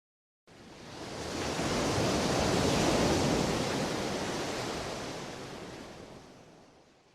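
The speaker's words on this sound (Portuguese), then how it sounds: "escutou o pacífico roçar das ondas na areia" Ocean waves brush up the sand in one broad, hissing wash that swells, peaks and slowly fades away, with nothing else heard.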